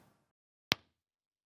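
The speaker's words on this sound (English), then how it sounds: "is a very small audio file in wave or other lossless formats that sounds something like this" A single sharp click-like impulse with a short decaying tail, alone in near silence.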